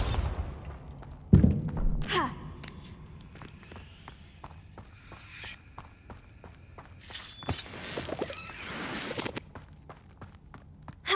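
A Bombarda blasting spell in Hogwarts Legacy lands as a sharp, loud burst with a crunching crash, followed by footsteps and softer game effects.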